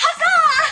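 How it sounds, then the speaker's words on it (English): A phone ringtone or notification sounds as a short, bright, warbling melodic tone, loud and close, lasting under a second with no talking. "That is my phone."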